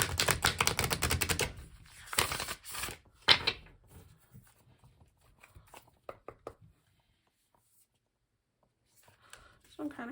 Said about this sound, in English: Do one more big shuffle, then I'll just go ahead and cut.